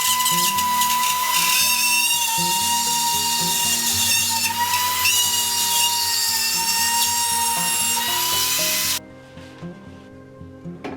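Power drill driving screws into wood blocks fixed near a ceiling for hanging drywall, a loud sustained high-pitched whine for about nine seconds that cuts off abruptly, leaving quiet room sound.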